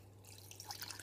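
Boiling water is poured from close by into a cup holding dissolving tablets, making a quiet, soft trickling splash over a faint background hum.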